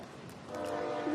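A train rumbles in the background near a pickleball match in Daytona Beach, a low distant drone that swells gradually, topped at the end by the start of a faint horn.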